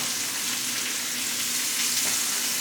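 Meat frying in a pan with Worcestershire sauce added, giving a steady, close, continuous sizzle with a broadband hiss throughout and no talking.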